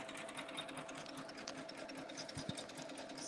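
Embroidery machine stitching lettering runs with a steady fast mechanical chatter and a faint motor hum, continuous and fairly quiet throughout.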